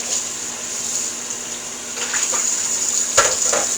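Tap water runs steadily over sprouts being rinsed in an Easysprout sprouter, a close hissing stream with a faint hum, growing splashier and louder partway through as the sprouts are moved under it.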